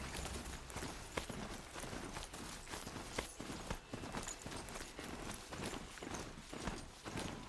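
Horse hooves clip-clop in a steady walking rhythm in Horizon Zero Dawn, rapid and even, heard fairly close and alone.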